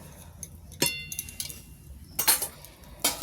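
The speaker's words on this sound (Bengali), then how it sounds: "সব কিছু একটু নাড়িয়ে দিই।" A spoon clinks and scrapes against a cooking pot as lentils and bottle gourd are stirred together, with sharp metallic taps in scattered bursts between quiet pauses.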